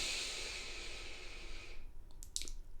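A slow, deep breath during a quiet yoga session, a long soft airy inhale fading out, then faint small mouth and nose sounds, close and hushed with no talk.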